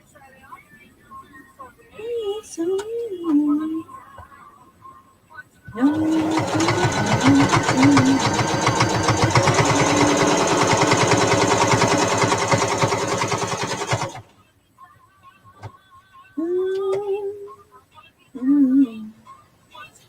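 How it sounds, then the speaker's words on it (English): A sewing machine stitches around the edge of a fabric hot bowl holder, one continuous close whirring run of about eight seconds, with someone talking before and after. "So we're going to stitch all the way around"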